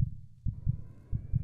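Heartbeat sound effect in the Dead Silence horror video game: low, muffled lub-dub thumps, four beats in a steady slow rhythm, close and moderately loud over a faint hum.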